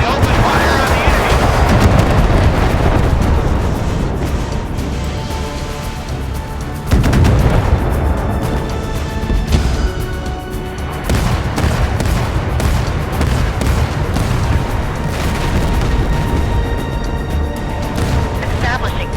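Warship guns fire in the naval combat game Force of Warships, heavy booming blasts and rumbling explosions rolling continuously and loudly, with a few sharp onsets standing out, while a voice speaks over the battle.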